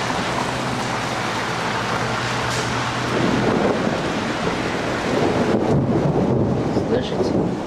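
Low thunder from an early-April thunderstorm rumbles through steady rain, with gusts of wind buffeting the microphone; the rumble swells partway through and rolls on.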